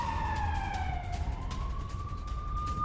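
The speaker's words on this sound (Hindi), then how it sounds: "इसके बाद से लगातार इस इलाके में वॉर सायरन बज रहे हैं।" A war siren wails across northern Israel, its tone gliding down and then rising again in a steady, loud sweep over low rumbling background noise.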